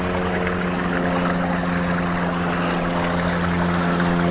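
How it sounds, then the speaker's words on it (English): A garden waterfall in Colorado pours over rocks and runs beneath a rock bridge, a loud, continuous rushing roar with a steady low rumble throughout. "you'll see another waterfall here, and the water going underneath a bridge"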